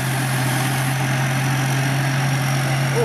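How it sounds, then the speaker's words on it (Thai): A large Hino diesel engine on the back of a combine harvester idles steadily and close by, a constant low drone with an even hum and no talk. "โอ้ดูเครื่องด้านหลังครับเครื่องยนต์ฮีโน่ตัวใหญ่เลย"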